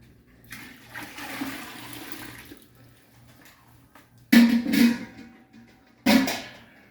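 Curds and whey for cheddar dumped into a strainer, a rushing pour of liquid for a couple of seconds, then quieter dribbling and two short, loud splashing sloshes near the end.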